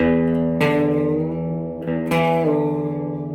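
Sustained electric guitar notes with effects, two sharp plucked attacks ringing out into long, bending tones with reverb.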